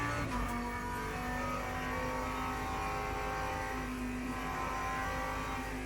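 Race car at full throttle in Le Mans Ultimate at Spa-Francorchamps, a steady loud engine drone holding high revs throughout with a constant rising whine and no gaps, no voices.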